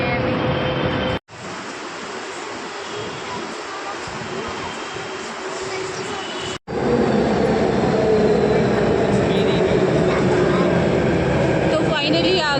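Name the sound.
metro train arriving at station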